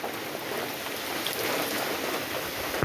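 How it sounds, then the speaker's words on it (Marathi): Rain drums on metal roof sheets in a dense, steady patter, a continuous hiss with no voices. "आज पहिला पाऊस पडलेला आहे आमच्या मनोरमध्ये. तर बघा तिकडे पत्रे कसे घालतात"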